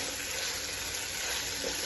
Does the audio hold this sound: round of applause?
no